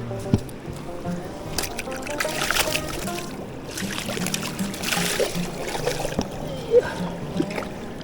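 Caught mahseer rinsed by hand in the water of a Taiwanese river, with soft splashing and trickling under outdoor ambience, close by and moderately loud, while someone talks.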